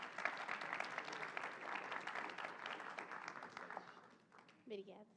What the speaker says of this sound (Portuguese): recebam com uma salva de palmas